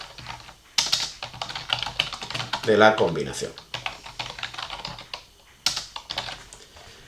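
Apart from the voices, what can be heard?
typing a file name on a computer keyboard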